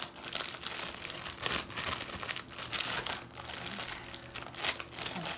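Crinkling, crackling plastic wrapper of Reese's peanut butter cup marshmallow tops being pulled open up close, with irregular bursts of rustling and tearing that continue steadily throughout.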